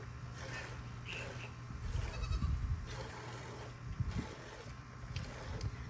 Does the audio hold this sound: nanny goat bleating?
yes